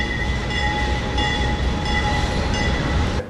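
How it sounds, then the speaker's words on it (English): A train rolls steadily past close by on a Mexican freight line, a loud continuous rumble with metallic whining tones and rhythmic clacking, no voices. "There goes another train."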